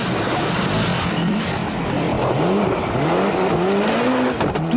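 Subaru rally car braking hard on a slippery forest stage of the 1994 RAC Rally, its engine note dipping and rising in loud revving sweeps alongside crowd and wind noise, closing with a sharp burst.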